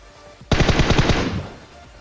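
A Tommy gun in the PUBG video game fires a rapid, loud burst of about eight rounds lasting under a second, ending in a short decaying tail.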